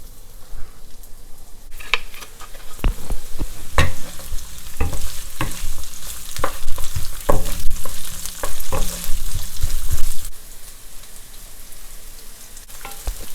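White onion hits a little oil over high heat for kimchi fried noodles, crackling and sizzling close by while a utensil scrapes and stirs in irregular bursts before the frying settles to a softer hiss.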